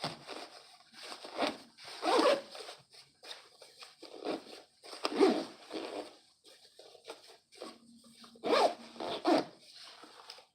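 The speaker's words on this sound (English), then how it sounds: "I'd rather zip this shit up, bro." A jacket zipper is zipped up and down several times, close and crisp, in rasping bursts separated by short pauses, with no talking.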